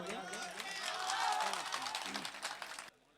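An audience at an open-air Indian mushaira gives a burst of applause. The clapping is steady and fairly distant and swells slightly before it cuts off abruptly near the end, with crowd murmur underneath.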